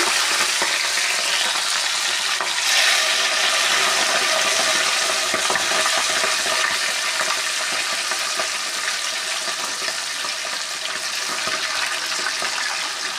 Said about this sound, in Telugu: ఇప్పుడు ఆయిల్ హీట్ ఎక్కింది, రొయ్యలు వేసుకుందాం.